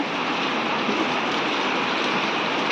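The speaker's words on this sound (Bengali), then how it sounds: "আর দেখো বৃষ্টি নামিয়ে দিয়েছে" Steady, dense rain pours down at night after a hot day, a close, unbroken hiss that stays loud and even throughout, with no voices over it.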